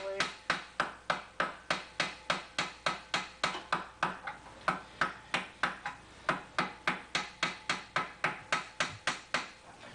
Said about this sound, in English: And I'll do some hammering on it.